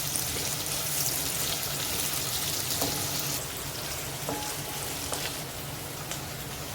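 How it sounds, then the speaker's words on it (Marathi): Onion sizzling with garlic and ginger in hot oil in a pan over a high flame, a steady dense crackle and hiss throughout, close and fairly loud with faint clinks of a spoon. "गॅसची फ्लेम हायच ठेवायची आणि आपल्याला कांदा परतायचा आहे"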